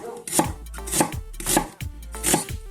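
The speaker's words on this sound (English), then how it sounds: "when you have a sharp knife and you're cutting onions, it tends to cut through the glands" Four crisp, evenly spaced knife strokes thud onto a cutting board as a sharp knife slices through an onion, each chop close and distinct with no talking.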